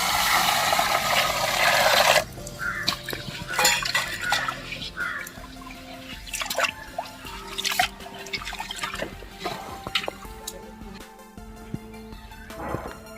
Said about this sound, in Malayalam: നമുക്കൊന്ന് കഴുകിയെടുക്കാം. നന്നായിട്ടൊന്ന് കഴുകി.